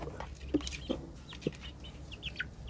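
Two pet chickens kept at home cluck in short, separate bursts, fairly close, over a steady low background hum with a few fainter chirps.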